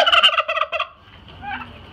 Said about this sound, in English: Right behind us, we have some turkeys.